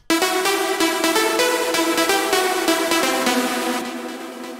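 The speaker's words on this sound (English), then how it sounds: "For the second layer, I use the serum, my preset" Layered synth lead built with a Serum preset, playing a bright rhythmic melodic phrase of repeated stabs, loud and clean, fading slightly toward the end.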